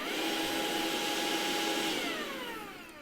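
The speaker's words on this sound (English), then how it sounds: "when you pull the trigger, you'll hear the dust extractor kick in" A DCK 20V rotary hammer's dust extractor runs with a steady, loud vacuum-like whine and airy roar, its pitch sliding down as it winds down near the end.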